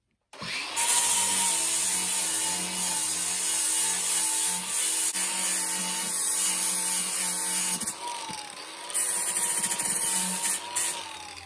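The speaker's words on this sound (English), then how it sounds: "use the flap disc grinder to remove some of this wood" Flap disc on an angle grinder shaping the wooden handle for a vintage Council Tool axe head, a steady close motor whine with abrasive rubbing that runs continuously, its pitch dipping briefly under load.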